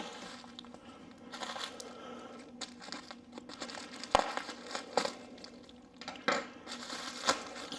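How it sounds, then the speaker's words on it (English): Plastic wrap crinkles and rustles in irregular bursts, with occasional sharper crackles and pops, close up and fairly quiet, with no talking. "I love bubble wrap."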